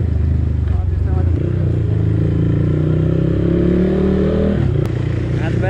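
A CrossX250se motorcycle engine labours uphill through a market town on a mountain ride, a loud, close, steady drone whose pitch slowly rises as it revs under load.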